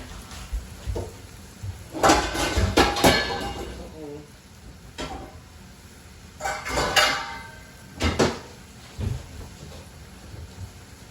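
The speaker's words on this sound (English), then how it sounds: "Okay, we're gonna stir this shrimp up." Metal utensil scraping and clanking in a pan as shrimp are stirred while cooking for chicken alfredo, a few bursts of clatter with quieter sizzle between, close and fairly loud.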